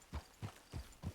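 Horse hooves clip-clop in Red Dead Redemption 2, with four soft, evenly spaced hoof falls in a walking rhythm, quiet and close.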